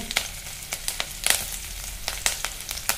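Green chillies drop into hot oil with mustard seeds, giving a crackling sizzle of sharp spits and pops over a soft frying hiss, close and fairly quiet.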